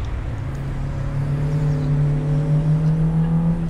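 Honda CRX race car engine running on a track, a steady droning hum with a rising tone, heard from inside or close by throughout, no talk.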